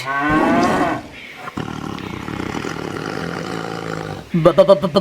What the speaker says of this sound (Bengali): বাঘ আরে এ তো বাঘ